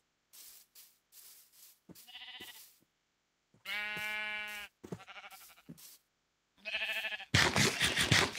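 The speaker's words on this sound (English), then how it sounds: "What is this, like, sheep forest?" Sheep in a modded Minecraft survival-multiplayer game bleat several times in a row, a string of short, clear, nearby cries with brief pauses between them, followed by a noisy rustling burst at the end.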